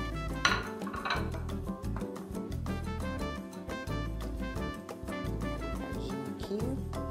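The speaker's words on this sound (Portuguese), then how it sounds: "Botar ela de volta na frigideira com a parte crua para baixo." A half-cooked patty goes back into a frying pan with a clatter of metal pan and utensil, set against continuous music throughout.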